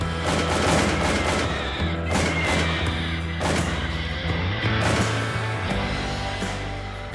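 Gunfire from a Marine unit on a firing line, with dense overlapping rifle shots and heavy booms crashing in bursts, loud and sustained throughout with no break.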